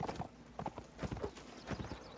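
Hooves of a galloping horse in a Napoleonic Wars battle game, a close rhythmic clip-clop of several quick bursts over steady battlefield background noise.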